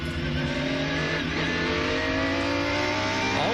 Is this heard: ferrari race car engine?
yes